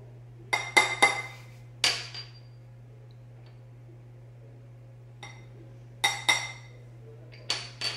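Flour, cinnamon, baking powder and salt being mixed in a bowl, heard as a few sharp clinks and scrapes of a utensil against the bowl in short bursts, separated by quiet gaps over a steady low hum.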